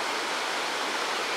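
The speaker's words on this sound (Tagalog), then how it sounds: "Tapos doon meron pang falls." Waterfall in the highlands of Tinoc, Ifugao, a steady rushing roar of falling water, dense and continuous throughout the short stretch.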